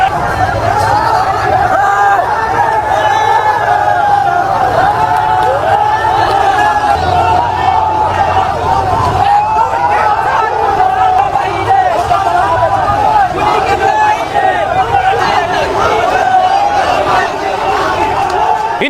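A large crowd of radicals shouts and chants continuously at a street gathering, a dense roar of many raised voices with overlapping babble, steady and loud throughout.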